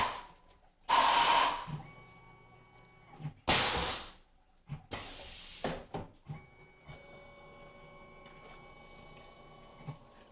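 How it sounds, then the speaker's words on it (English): A Tormach PCNC 1100 CNC mill reaming holes, with a faint steady spindle whine broken by several loud, sharp hissing bursts and occasional light clicks. "Coming up on the reamer now."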